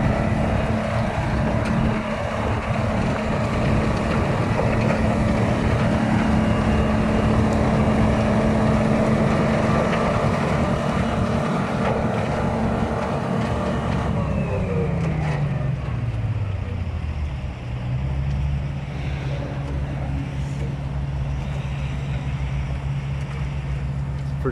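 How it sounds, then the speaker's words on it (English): Vintage Sicard snowblower clearing snow on Ottawa city streets, a loud steady engine roar with a whining drone that drops in pitch partway through and settles into a lower hum. "old Sicard blower in snow like it's nothing"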